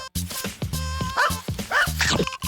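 A cartoon dog gives a quick run of sharp barks and yips in a comic safety skit about building a giant skeleton from dog bones, the barks bunched close together and fairly loud.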